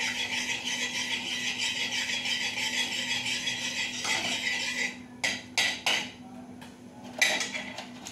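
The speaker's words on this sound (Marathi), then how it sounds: "थोडे हे जे वेलदोडे आहेत ना असे फोडून घ्यायचे" Cardamom pods are cracked open for saffron rice. A steady hiss comes first, then a few sharp, close clicks and knocks sound in quick succession.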